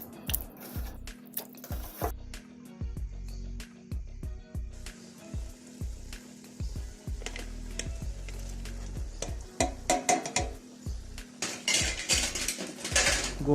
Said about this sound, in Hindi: गोश्त डाल दिया है कुकर में